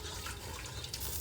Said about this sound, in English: We rinse the pot, rinse the season from the pot